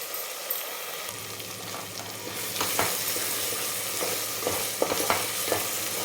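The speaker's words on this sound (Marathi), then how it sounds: "तर आता हे छान आपल्याला 1-2 मिनिट चांगलं परतून घ्यायचं आहे." Red chilli, cumin and garlic masala sautés in oil for kanduri mutton, a steady close sizzle with scraping stirs that grows louder halfway through, with sharp spatula knocks near the end.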